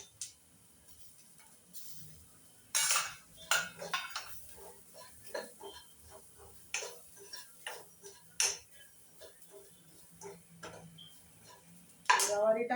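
Cluster beans go into a pan of Satara-style gavar curry spiced with cumin, salt and turmeric; a spoon then clinks and taps against the metal in an uneven rhythm, with a voice at the end.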